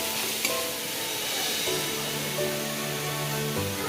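Mango pieces fry in oil over low heat while being stirred, making a steady, fairly loud hissing sizzle throughout with faint scraping movements and no talk.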